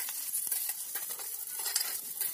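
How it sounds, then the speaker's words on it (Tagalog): Garlic sizzles and crackles in hot rendered pork fat for pork afritada, a dense steady frying hiss close by with light stirring throughout. "Panggisa ko ng bawang."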